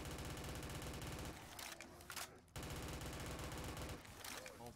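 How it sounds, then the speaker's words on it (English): AK rifle gunfire in the GTA V video game rattles in dense, continuous automatic bursts with a brief break midway, loud and close throughout. "Ooh, the good old AK."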